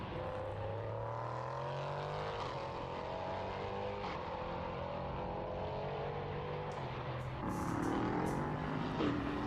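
A 5.6-litre Nissan V8 race car engine roars as it accelerates out of a corner at Portimao, its pitch climbing through gear changes, heard at a moderate distance with constant droning.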